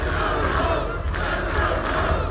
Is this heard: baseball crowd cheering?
yes